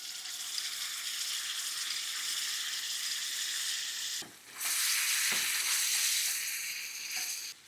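Tomato puree fries in two or three spoonfuls of hot oil for a potato curry, giving a steady, close sizzle that briefly dips once before stirring sets it hissing loudly again.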